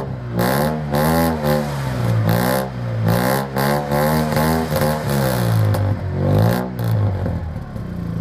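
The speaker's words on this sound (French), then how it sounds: "Et écoutez-moi ce son magnifique, on dirait presque un T-Max." The engine of a fast licence-free microcar revs repeatedly up and down, close and loud, with a buzzy, rising and falling whine over several seconds.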